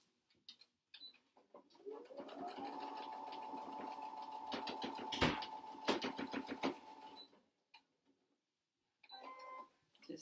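Sewing machine stitching a 100% cotton fabric mask with a double stitch, a steady whirring motor run of several seconds that winds up, holds, then stops, framed by small mechanical clicks.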